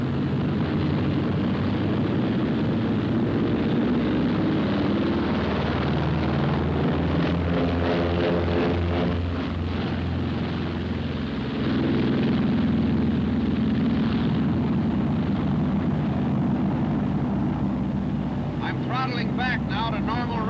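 A Martin B-26 bomber's twin engines roar continuously through its takeoff run, a dense, loud drone that swells and pulses, with someone talking over it for much of the time.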